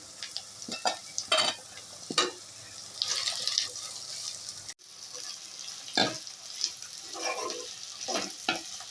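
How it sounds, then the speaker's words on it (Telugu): Prawns fry in oil with masala over high heat, giving a steady close sizzle broken by scraping stirs against the pan, with no talk over it. "రొయ్యలు కూడా కొంచెం ఆయిల్లో వేగనివ్వండి."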